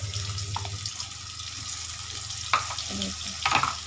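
Garlic paste goes into a kadai of light-spiced red chicken curry, raising a steady oily sizzle with a few sharp scraping clatters of stirring near the end.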